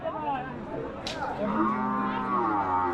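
At a busy Qurbani cattle market, a cow lets out a long, loud, close moo that rises and holds for over a second, with crowd murmur and other cattle sounds beneath it.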